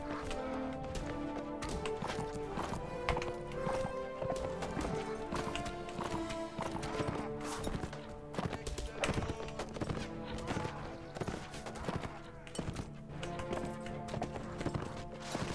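Horses galloping in the medieval combat game Mount & Blade Warband, dense rapid hoofbeats mixed with battle clatter and music, continuous and loud for the whole stretch.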